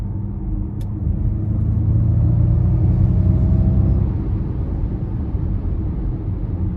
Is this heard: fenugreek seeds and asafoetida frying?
no